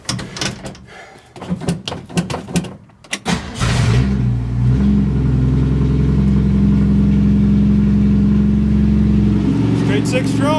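A 1965 Ford Mustang straight-six is cranked with a few stuttering turns before catching and settling into a loud, steady idle, heard up close.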